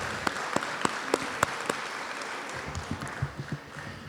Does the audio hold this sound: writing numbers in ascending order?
no